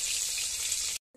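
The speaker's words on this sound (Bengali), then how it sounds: "আমি মাছগুলোকে বেশি করে ভাজবো না, অল্প ভাবে ভাজবো।" Hilsa fish frying in hot oil gives a steady, dense sizzle that holds evenly, then cuts off abruptly near the end with a brief faint sound after.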